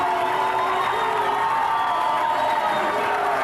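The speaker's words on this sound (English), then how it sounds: "listen to that crowd then receiving the champions-elect" A big crowd at a rugby league ground roars and cheers in a dense, continuous wash of voices and whoops, loud and sustained as the teams come out.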